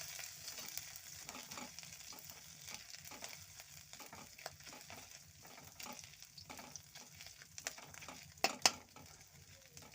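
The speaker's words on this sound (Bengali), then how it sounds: "আদাটা ভাজা ভাজা হয়ে গেলে ডালটা ঢেলে দেবো।" Chana dal added to hot oil and frying, a soft continuous sizzle broken by stirring scrapes and a few sharp utensil clicks that grow louder toward the end.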